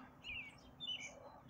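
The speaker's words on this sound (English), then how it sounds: "Gotta love the birds." Birds chirp outdoors on a spring morning, two short bright tweets about half a second apart over faint background hush, fairly close and alone without talk.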